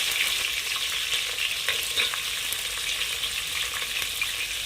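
Onions sizzle steadily in hot oil as vegetable pulao is cooked, a dense, even frying hiss that stays close and constant with faint scattered crackles and no voices.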